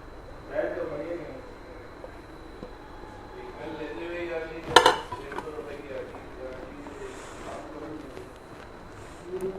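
Chicken fried rice with spring onion and egg is stirred in a pan, with utensils scraping and clinking against the metal and one sharp louder clank midway, while a person talks over the mixing.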